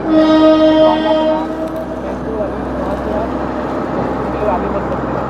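An Indian Railways medical relief van running with ICF coaches passes close by in the Darekasa Ghat section, a loud, sustained horn blast at the start fading into steady rolling rumble and clatter with voices underneath.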